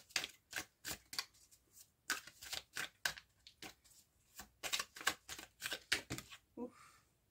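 Tarot cards being shuffled and cut by hand, a quick run of crisp papery riffles and slaps in uneven bursts, close and fairly quiet, with no talking.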